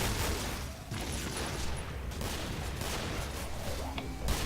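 Dense, continuous gunfire from the Killing Floor video game during a tournament match, steady heavy bursts of shots that fill the whole stretch at high level with no talking over it.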